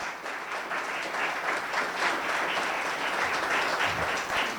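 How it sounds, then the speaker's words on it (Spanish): An audience applauds in tribute at a talk about Lebanon's history, dense sustained clapping from a sizable crowd that continues throughout at a moderate, even level. "bien merecido a darte otro aplauso a ti"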